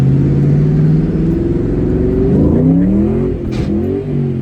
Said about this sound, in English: this is a little in-cabin view of a first to second gear pull highway on-ramp here